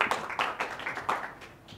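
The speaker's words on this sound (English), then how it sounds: "Round of applause for our technical support guys here." An indoor audience at a Linux technical conference claps in a short, uneven burst of applause for a couple of seconds.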